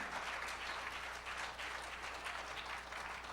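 Congregation clapping inside a church during a Spanish-language worship service, a dense, steady wash of applause that continues without break for several seconds.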